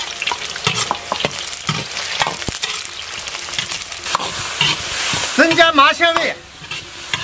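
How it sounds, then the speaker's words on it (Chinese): Oil, scallion, ginger and garlic sizzle and crackle loudly as they are stir-fried in a wok, with steady scraping of the stirring and a short burst of speech near the end. "锅中倒油，葱姜蒜爆香"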